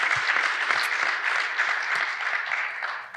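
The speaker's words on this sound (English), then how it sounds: "Let's give them a round of applause." A conference audience claps for an event-organizing team in a short, dense burst of applause that holds steady throughout, with no speech over it.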